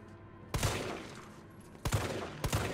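Gunshots in the Resident Evil 3 demo: three loud, separate blasts with pauses between them, each decaying quickly over a quiet, low game ambience.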